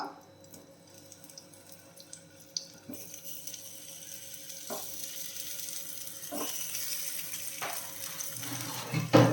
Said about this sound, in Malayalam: നമ്മുടെ മാങ്ങയുടെ പീസസ് എടുത്ത് വെച്ചിട്ടുണ്ടല്ലോ, ഇതൊന്ന് ഇട്ട് കൊടുക്കാം